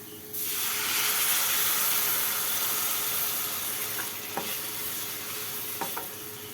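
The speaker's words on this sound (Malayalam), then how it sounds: "ഇപ്പം നമുക്ക് ആവശ്യത്തിന് വെള്ളം ഒഴിക്കാം." Water poured into a hot pan of vermicelli bursts into a loud, close, steady sizzle and hiss that carries on evenly, with a few faint clinks of a utensil toward the end.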